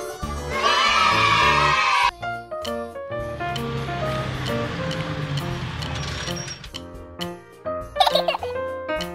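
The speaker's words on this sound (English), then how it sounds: "Horse." A horse whinnies in a short, shrill burst near the end of lively children's music, after a stretch of busy instrumental backing.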